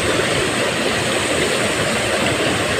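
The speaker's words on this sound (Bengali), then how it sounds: "পানির শব্দ শুনুন, দেখুন এই যে এদিক দিয়ে পানি আসতেছে" River water rushes hard through a sluice gate, a loud, unbroken roar with no pauses and no voices.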